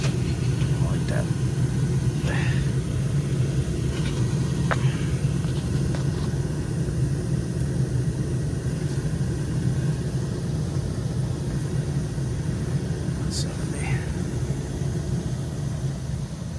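Engine idling as it warms up to temperature, with the cooling system being filled through the expansion tank: a steady low rumble running continuously throughout, with faint scattered clicks and knocks in the background.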